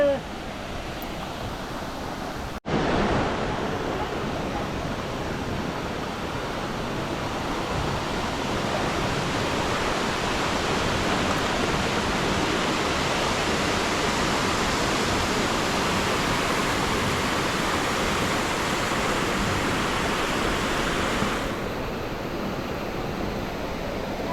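Hundru waterfall in Jharkhand pours in a dense, unbroken roar of rushing water. After a brief cut near the start, the heavy wash fills the whole stretch at a constant, loud level.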